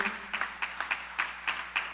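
A few people clap in a steady rhythm, about eight distinct claps spaced evenly, faint and slightly distant, with no cheering.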